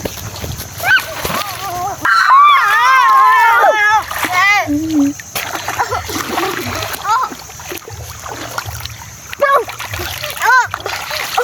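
Water splashes close by amid a child's excited chatter and squeals, with bursts of movement and voices talking over the splashing.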